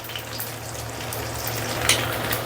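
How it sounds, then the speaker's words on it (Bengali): An egg frying in a pan gives off a steady crackling sizzle, close and moderately loud, with a low hum underneath and a brief bright spatter burst toward the end. "আমার ডিমটা ভাজা রেডি"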